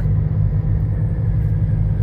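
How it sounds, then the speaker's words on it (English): A car engine with a large turbo rumbles steadily nearby at a drag event, a low, heavy drone with a faint high whine above it and no pauses. "Listen to the giant turbo on that car."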